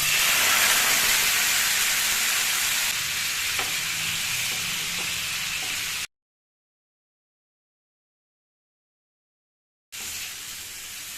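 Premixed sauce sizzles and hisses in a hot pan of frying chicken balls, a loud, close, bubbling crackle that eases slightly, cuts to silence for a few seconds, then the sizzle returns.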